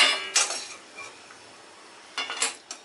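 Fried cashews moved from a kadhai into a dish, heard as a few clinking scrapes of a spoon against metal and crockery at the start and end, with quieter gaps between.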